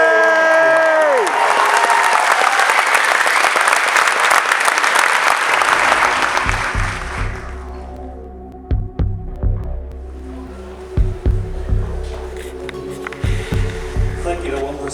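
A large cinema audience at a Shaun of the Dead anniversary screening applauds loudly and steadily, then the clapping fades away, leaving a low hum with a few scattered thumps.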